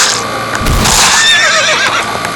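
A horse in the video game Dead Rails gives a loud, close neigh, a wavering whinny lasting about two seconds with a faint hoof clop beneath.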